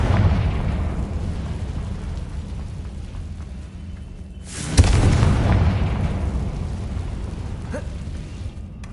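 A Confringo explosive spell goes off in the Hogwarts video game with a loud, deep boom that erupts midway and trails off into a long rumbling roar over constant low background noise.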